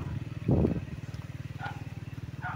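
A motorcycle engine idles and putters steadily nearby with a brief louder rev, its low rhythmic chugging continuing throughout.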